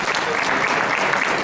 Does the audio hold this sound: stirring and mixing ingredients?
no